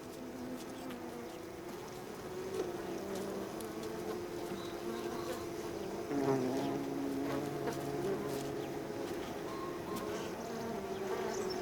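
Bees buzz continuously while gathering pollen on Sardinian or Abruzzo mountain flowers, a close, steady insect drone with a few brief louder passes, fairly soft and alone without talk.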